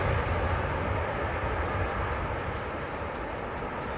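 An airliner taking off at Manchester Airport, a loud broad continuous engine roar at full takeoff thrust that fades slightly as it climbs away, with no other sounds on top.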